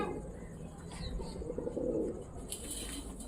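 A pigeon coos softly in a Meerut pigeon-keeper's loft, a low murmuring call that sits under faint background noise.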